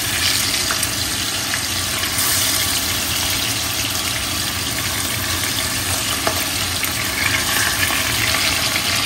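Hilsa fish pieces frying in hot oil give a steady, dense sizzle with bubbling crackle that runs unbroken throughout, close and fairly loud, with no voices.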